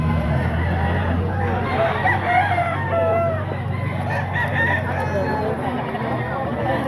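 A rooster for sale, a nine-month-old Kalisayan gamecock, crows amid steady farmyard noise with low background hum and scattered bird calls, close and fairly loud throughout.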